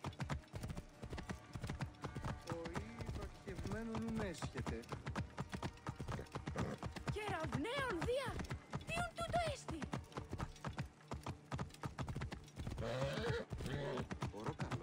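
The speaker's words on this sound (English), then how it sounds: "Go faster, horse, won't you?" Horse hooves clip-clop at a steady gallop in the Assassin's Creed Origins video game, a close, rhythmic beat running throughout beneath near-constant talking, with music and game sounds in the background.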